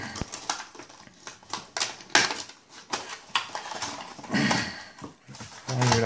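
A 3000 mAh external battery being unwrapped from its box, with close, quiet crinkles, taps and small plastic clicks in irregular bursts.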